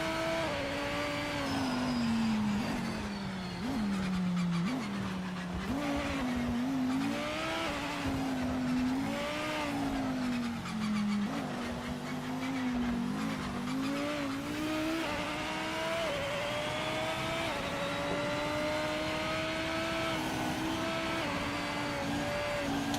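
Honda NSX race car on a hotlap in the PMR racing game, its engine revving up and down through gear changes with tire squeal in corners, loud and continuous across the lap.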